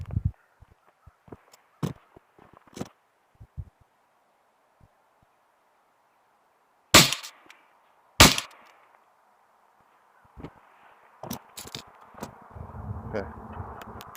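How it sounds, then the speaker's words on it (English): A Valken M17 less-than-lethal launcher fires 10-gram riot balls at a watermelon five yards away, two sharp, loud cracks several seconds apart amid scattered small clicks and handling noises, with background rustle near the end. "I'm gonna end this video with two 10-gram riot balls shooting at the watermelon"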